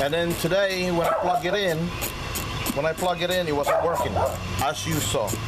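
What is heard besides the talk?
dog barking at people in the street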